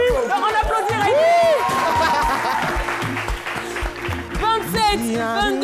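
Studio audience clapping at an evening television game show, a dense burst of applause with chatter and people talking over it, fading somewhat toward the end.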